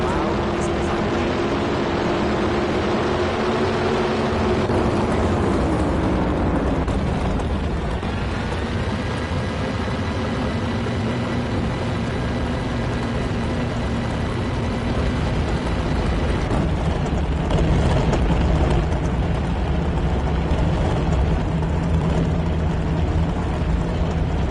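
NHRA dragster engines in a drag racing video game roar continuously and very loudly, a dense broadband blast with shifting engine tones that holds for the whole stretch.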